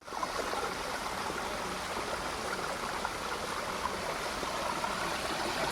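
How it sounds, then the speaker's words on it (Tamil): A small waterfall on a hill trek in the Athiri Hills splashes steadily with flowing water, a continuous soft rushing hiss heard up close without any talk. "நல்ல தண்ணி சவுண்டு கேட்கு."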